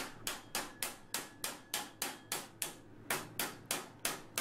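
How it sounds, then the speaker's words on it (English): A small hammer taps a lantern corner into place during an electric lantern build. About fourteen crisp, evenly spaced knocks ring out close up at a steady pace of roughly three per second, with no talking. "Just give it a bit of a tap. find a small hammer."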